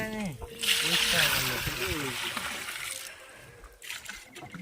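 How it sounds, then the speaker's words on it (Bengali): A hooked fish thrashes in the Muriganga river in the Sundarbans, sending up a brief, splashy rush of water that fades out partway through, while someone speaks over it close by. "জল ছিটকে উঠবে"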